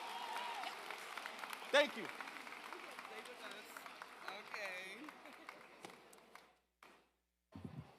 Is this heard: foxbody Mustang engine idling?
no